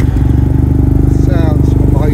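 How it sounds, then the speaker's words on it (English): A loud, close Yamaha XP 560E T-Max scooter engine idles with a rapid, throbbing exhaust pulse through an aftermarket exhaust, and a voice speaks briefly over it. "Sounds amazing with the exhaust on it."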